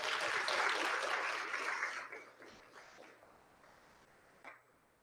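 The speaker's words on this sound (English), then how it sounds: "I want you to give them a huge round of applause" A congregation at a Sunday morning service claps in a burst of applause that is loud at first, then thins and fades away over a few seconds, with one late clap near the end.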